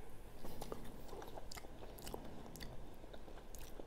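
Cempadak fruit being eaten: close, moist chewing and soft biting sounds repeat steadily, with no talk.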